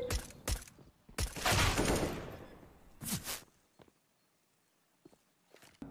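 Gunfire in Counter-Strike on the Dust 2 map: a few sharp shots up front, a longer loud burst of fire, then another crack, followed by scattered quieter footstep-like clicks and near silence.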